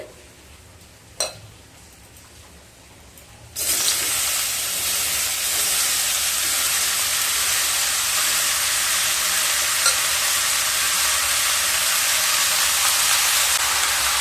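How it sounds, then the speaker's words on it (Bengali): Quiet kitchen background gives way after about three seconds to a sudden, loud, steady sizzle as thinly sliced bottle gourd hits hot oil in the pan, frying evenly for the rest of the stretch. "এবার ওই তেলের মধ্যে কেটে রাখা লাউগুলোকে দিয়ে দেব।"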